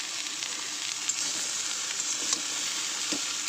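Whole spices tempering in hot oil for a Bengali lau shaak chorchori, a steady close sizzle with faint stirring clicks and no talk.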